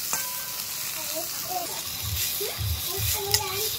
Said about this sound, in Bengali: একটু সোয়াবিনটা একটু নাড়াচাড়া করে একটু ভেজে নেব